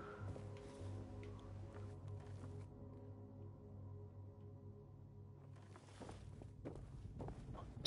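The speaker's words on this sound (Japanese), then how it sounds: "この足音はプレイヤーの足音だな。" Player footsteps in Fallout 76, faint and steady under a low humming in-game ambience, with a few sharper steps near the end.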